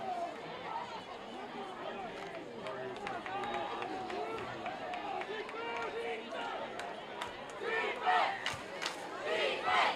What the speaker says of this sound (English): Baldwin crowd starting to come alive on this 3rd down and 10.